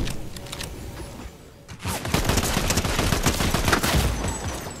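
Rapid automatic gunfire from the KAAT in the video game Fortnite erupts after a quieter opening, a loud sustained stream of shots with little pause.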